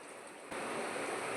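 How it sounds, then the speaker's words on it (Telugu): Water is poured into a simmering small-fish tamarind curry (chapala pulusu), a sudden steady rushing pour that starts midway and continues close by. "వాటర్ కూడా చూసుకొని వేసుకోవాలి."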